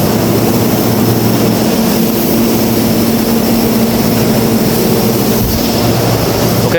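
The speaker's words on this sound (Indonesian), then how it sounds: "Maaf nih mungkin berisik karena ada kipas ya." An electric fan runs close by with a loud, steady whooshing whir and a low hum, unbroken and with no voices.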